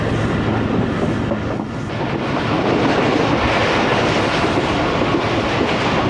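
From inside the Awam Express, a passenger train in Pakistan running between Rohri and Mahrabpur, a loud continuous rumble of wheels on rails with a rhythmic clatter that stays steady throughout, with no voices.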